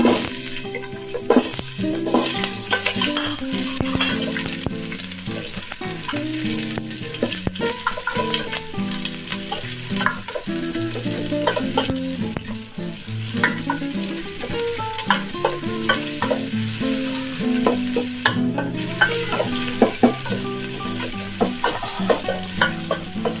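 Onion sautéing in hot oil in a casserole while the cook stirs, making a steady, close sizzle with frequent spatula scrapes throughout and no talking.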